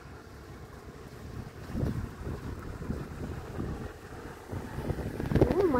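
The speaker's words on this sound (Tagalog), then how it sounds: "O tingnan nyo gaano kalakas yung hangin." Strong wind roars and buffets the microphone in continuous heavy gusts with blowing snow in Gallio, Italy, a rumbling low rush that swells louder toward the end.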